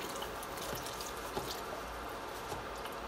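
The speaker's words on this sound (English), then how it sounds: "I'm going to pour the broth in" Chicken broth poured from a box into a soup pot, a steady soft splashing pour that runs quietly and continuously with no voices over it.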